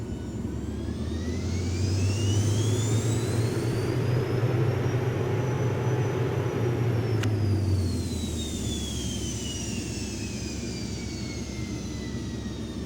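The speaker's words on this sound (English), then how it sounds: "We have a new sound effect with the jet engine." A Cirrus Jet's engine in X-Plane 10 Mobile drones loudly and continuously with bleed air on, a low rumble swelling and easing while a high whine sweeps up and then falls back.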